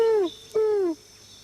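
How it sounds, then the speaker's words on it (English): A twelve-wired bird of paradise gives two loud, downslurred calls in a row, each about a third of a second long, up close in a quiet setting. "That's the 12-wired bird of paradise."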